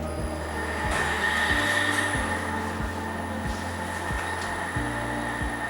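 An electric motor on a motor control kit runs steadily in closed loop, a continuous hum and whir with a regular low rhythmic pulse throughout and no speech.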